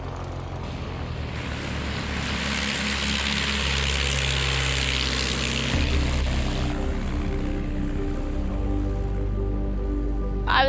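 A light propeller aircraft's engine drones loud and steady through its takeoff run, a broad roar with a throbbing low hum that shifts pitch partway through, with no voices over it.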